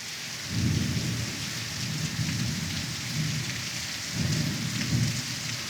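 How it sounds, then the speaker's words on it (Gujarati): Steady rain hisses throughout while low rumbles of thunder roll in and out, swelling several times in the distance. "જોવો ભાઈ, જોવો વરસાદ જોવો"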